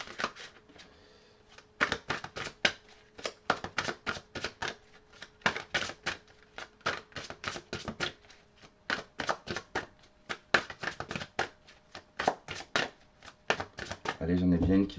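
Tarot cards are shuffled in quick, crisp riffles and flutters, a dense run of papery snaps with brief pauses, close and fairly loud throughout.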